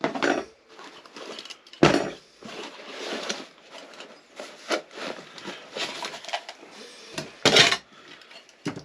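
A spoon handled while being taken from a military pack, giving sporadic light clinks, taps and rustles, with a couple of sharper knocks between quieter fumbling.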